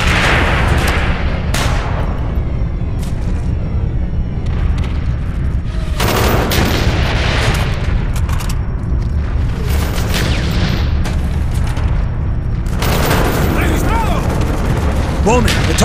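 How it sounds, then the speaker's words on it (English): In the Call of Duty Black Ops video game, a B-26 bombing run unleashes heavy, repeated explosions and bursts of gunfire that crash in close succession, with voices speaking at times amid the din. "B-26s are about to begin their bombing."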